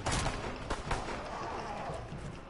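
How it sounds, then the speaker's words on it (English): Bursts of gunfire from a zombie shooting video game with moonshine, dense and continuous shots packed close together, loud and busy throughout with a voice faintly mixed in. "Alright, now I can shoot him."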